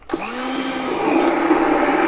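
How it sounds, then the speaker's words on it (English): An immersion blender whirs up and runs steadily through a bolognese meat sauce, starting abruptly with a loud motor drone that grows slightly rougher as it churns the meat chunks, heard close and alone. "The other option is to take an immersion blender"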